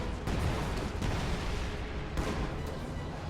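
Field gun artillery in a strategy game, a few booming shots a second or so apart, heard at moderate distance over a rumbling battlefield bed with no talk.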